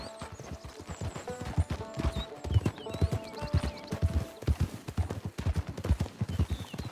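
Horse hooves clip-clop in Red Dead Online, a close, brisk, steady run of hoofbeats throughout, with faint tonal game sounds mixed in.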